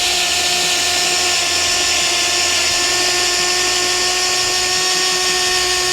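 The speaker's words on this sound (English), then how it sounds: "So make sure you're using a drill." A power drill with a 1/2-inch drive lowers a heavy-duty offroad scissor jack, a loud, steady motor whine running without pause the whole way, close up and alone with no talk.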